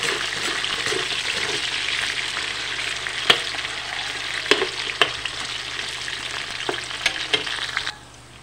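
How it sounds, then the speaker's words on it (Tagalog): Squid balls frying in oil in a pan, a steady close sizzle and crackle with occasional sharp pops and stirring clicks, cutting off abruptly near the end. "So, luto natin ating squid balls."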